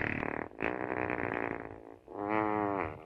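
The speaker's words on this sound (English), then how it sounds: "The movie ends on a fart because that's the kind of movie it is." A drawn-out comic fart closes a 1978 horror comedy, a buzzy, sputtering blast running several seconds with a brief break before a louder, tonal finish.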